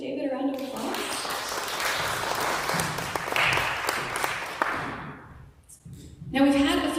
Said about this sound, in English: Will you all give David a round of applause?